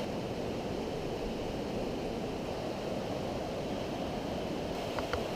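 Fast-running river water beside a kayakers' island, a constant broadband rush that stays steady and fairly close, with some wind noise and no talking.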